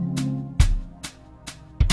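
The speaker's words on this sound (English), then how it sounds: "you're left with just the drums" A drum track plays alone from a Roland Fantom keyboard with the piano part muted, sharp kick and snare hits spaced evenly over a faint low backing, no voices.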